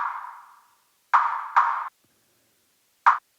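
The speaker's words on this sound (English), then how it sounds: "So with no reverb, here's the sound of our percussion." Dry percussion hits in Ableton Live with no reverb: a decaying tone followed by three short, crisp mid-range strikes, each stopping abruptly with silence between them.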